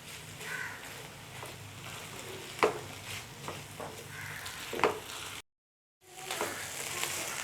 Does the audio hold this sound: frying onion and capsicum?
yes